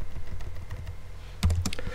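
A short run of keystrokes on a computer keyboard as a file name is typed, light clicks over a steady room hum with a denser burst near the end.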